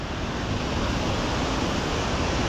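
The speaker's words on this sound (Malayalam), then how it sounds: "വേറെ ലെവൽ വെള്ളച്ചാട്ടം." Jogini Falls waterfall near Old Manali, a steady, dense roar of falling water that stays loud and unbroken throughout, with no voices.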